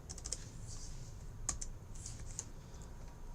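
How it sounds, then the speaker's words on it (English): Keys on a calculator keypad are pressed in short irregular bursts of quiet clicks, close and faint, with a steady low background hum and no talk. "you're not going to be able to see everything you're typing in a calculator"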